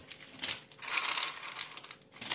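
A plastic ziplock bag holding ice is handled close by while making quick homemade ice cream, giving irregular crinkling and rustling bursts with soft clinks, loud and up close.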